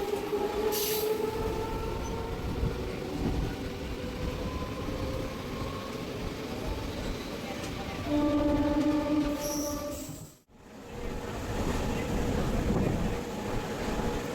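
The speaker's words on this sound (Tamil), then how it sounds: "ட்ரெயின் இப்போ கிளம்பிடுச்சு" An electric local EMU train between Kanchipuram and Chennai rumbles steadily along the rails after departing, with squealing wheel tones and metallic whines, continuous and loud from onboard, briefly dipping before resuming.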